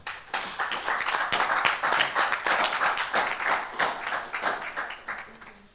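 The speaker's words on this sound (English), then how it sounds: "Ladies and gentlemen, with a warm round of applause" An audience claps to welcome a speaker at a youth event. Distinct, fairly close hand claps ring out in a brisk, continuous rhythm that fades at the end.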